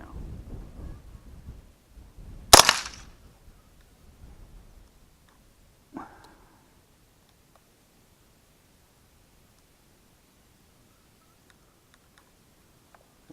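An old .22 rifle fires at steel dueling tree target plates outdoors, one sharp loud crack followed by a fainter second report, then near silence.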